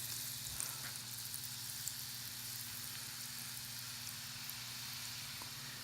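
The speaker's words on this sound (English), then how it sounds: "you know, it's like sizzling. It's roasting the garlic" Garlic roasting in butter in a pan for a butter wine sauce gives a faint, steady sizzle, a soft continuous hiss with a low background hum and no talking.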